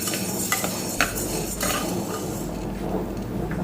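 Green gram being dry roasted in a pan over a low flame, with repeated light clinks and scrapes of a spoon against the pan and a soft grainy rustle underneath, close and steady before easing off near the end.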